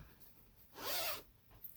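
A single quick zip on a knitting project bag rises to a short loud burst about midway and then stops, heard close and alone.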